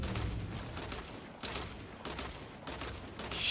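Dual pistols fire in Fortnite as a faint, distant scatter of gunshots, with quick pops in loose bursts amid low game ambience.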